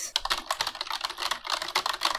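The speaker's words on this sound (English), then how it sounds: "I'm going to need to set up a keyboard shortcut for this." Rapid typing on a computer keyboard, setting up a shortcut: close, crisp key clicks come in quick uneven bursts with no one talking.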